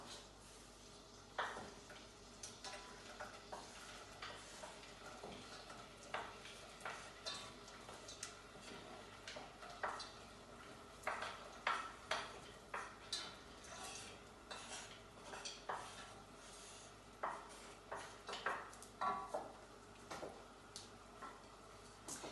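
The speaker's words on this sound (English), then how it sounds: "wooden spoon, just give that a little stir around" Wooden spoon stirring syrup and hot water for rocky road, heard as faint, irregular clinks and scrapes against the bowl at a steady unhurried pace, close up in a quiet kitchen.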